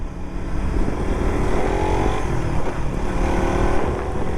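Suzuki Raider FI motorcycle engine runs steadily with a low, rough drone and slight revving shifts, close and continuous over wind noise throughout.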